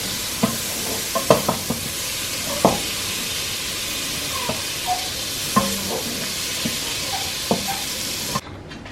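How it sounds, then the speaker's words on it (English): Jerk seasoning sautés in butter in a pot, a steady close sizzle broken by a series of sharp intermittent scrapes and clacks of a utensil stirring against the pot. "I'm gonna put some butter in the pot. Saute the jerk seasoning."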